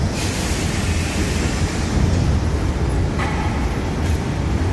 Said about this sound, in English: And there's a tram.